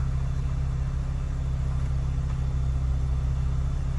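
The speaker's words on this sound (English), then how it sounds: "Engine all sounds fine." Fiat 500 Sport's small engine idles steadily after a rebuild, a smooth low rhythmic rumble held at an even level close to the car, with no talking over it.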